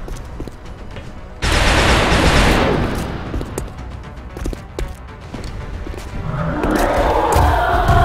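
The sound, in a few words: gunfire shooting at a Berserker, XCOM Enemy Unknown video game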